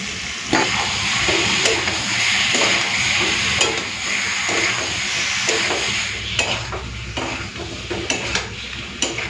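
Eggs, broccoli and potato stir-frying with spices in a pan, a continuous sizzle broken by repeated scrapes and clinks of a spatula against the metal.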